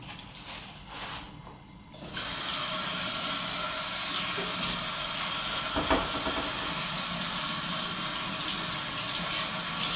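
Tap water gushing steadily to rinse the cure mixture off a brisket, a loud continuous hiss of running water that starts after quieter handling sounds, with a brief splash midway.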